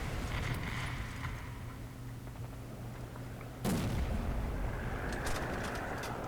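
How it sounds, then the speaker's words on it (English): Artillery fire in a War Thunder tank battle: one sudden, loud blast lands midway and cuts through a low, steady engine rumble, with a few fainter distant thumps after it. "I got arty coming in"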